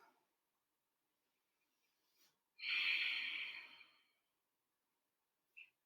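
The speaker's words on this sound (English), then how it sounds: "Breathe." A single deep breath taken while holding a yoga side plank pose, a soft airy exhale lasting over a second in near silence, bracketed by faint small breath sounds before and after.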